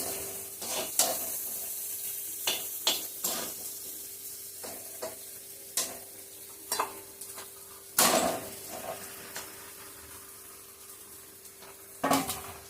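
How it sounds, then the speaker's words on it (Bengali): Fried chickpeas with potato and paneer stirred in a hot pan: steady sizzling throughout, broken by repeated scrapes and knocks of a spoon against the pan at an irregular pace, loud and close. "এখন আলু আর পনিরটা দিয়ে একটু নাড়াচাড়া দিয়ে তারপর জল দিয়ে দেবো।"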